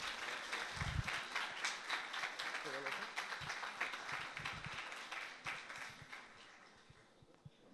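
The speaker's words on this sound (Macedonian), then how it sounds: "Аплауз." Audience applause at a televised Macedonian political debate, a steady wash of clapping from a seated crowd lasting several seconds, with a voice talking briefly over it.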